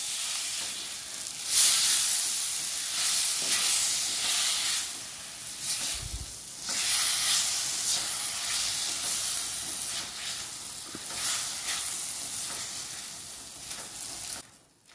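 Softened raw mango and jaggery sauté in a pan, giving a steady hissing sizzle with occasional stirring scrapes and a brief low knock midway, continuing evenly throughout.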